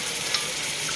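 Boiled chickpeas go into a pan of frying chole masala made with Badshah masala, giving a steady, close sizzle and hiss with no talking.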